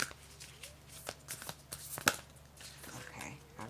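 Brand-new decks of cards are shuffled by hand, giving soft riffling flutters and sharp snaps close up in a quiet room, in short irregular bursts.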